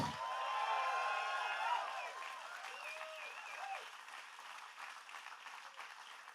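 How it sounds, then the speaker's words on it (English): An audience at a wellness rally claps and shouts together, loud dense applause with whoops at first, easing into a quieter, thinner patter of clapping with scattered cheers. "Clap your hands and shout a little bit."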